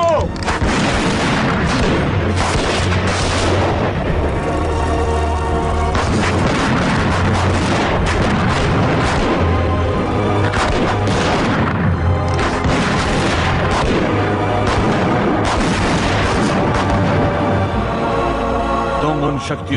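Explosions and gunfire in an action movie, a dense and loud continuous barrage of booms and shots with crashes, running without pause throughout.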